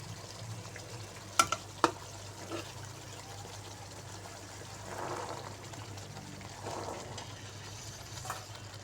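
Green peas tossed into a pan of well-fried onion-tomato masala for an egg and pea curry, giving a soft steady sizzle with a couple of sharp spoon clinks near the start and gentle stirring swells later.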